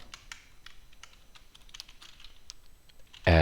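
Light typing on a computer keyboard while entering Python code, a quick uneven run of soft key clicks, fairly quiet and close, ending in a sudden louder burst.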